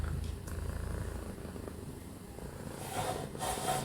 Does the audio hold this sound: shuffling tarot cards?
no